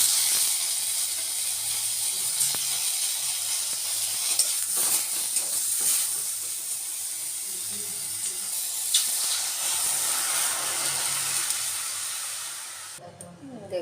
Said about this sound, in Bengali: এদিকে তেল গরম হয়ে গেছে দিয়ে দিলাম একটু সর্ষে